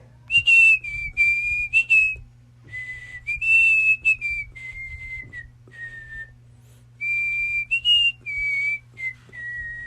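A pressure cooker whistles in several long, shrill bursts with short gaps, fairly loud over a low steady hum.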